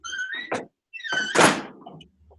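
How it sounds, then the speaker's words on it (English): A door opening somewhere near a participant on a video call gives a squeaky, creaking hinge sweep followed by a louder rushing thunk, fairly close and with no speech over it. "I hear your door opening up."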